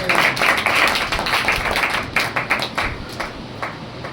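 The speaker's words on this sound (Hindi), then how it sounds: "आप ताली बजा सकते हैं।" Congregation clapping hands at a Hindi-language Sunday church meeting, starting as a dense burst and thinning into scattered, separate claps toward the end, moderately loud with no talk.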